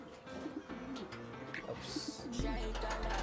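Pigeons coo close by in soft, repeated throaty calls just before release, with faint background voices and a low rumble building toward the end.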